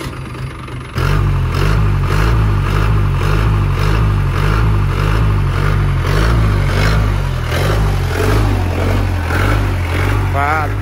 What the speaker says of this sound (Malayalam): ഈ ജീപ്പിൻ്റെ ആ ഒരു MDI എഞ്ചിൻ്റെ സൗണ്ടും കാര്യങ്ങളൊക്കെ ഒന്ന് ജസ്റ്റ് എങ്ങനെയൊന്ന് കേട്ടോക്കാം.